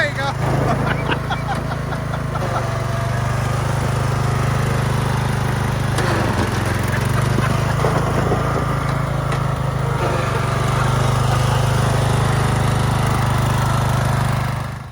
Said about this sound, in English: we picked up this LT1000 lawnmower. First time it had been started in quite a while.